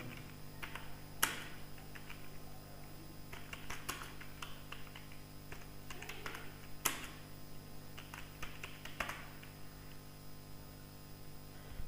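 Typing on a computer keyboard while entering names in MS Word 2010: scattered bursts of soft key clicks with short pauses between, close and quiet, with no talking.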